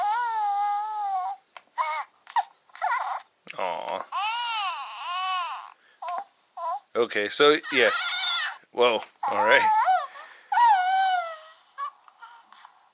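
Bursts of high, wavering infant-like crying and whimpering from a Baby Yoda plush toy, in short repeated cries, with a person reacting in brief speech between them.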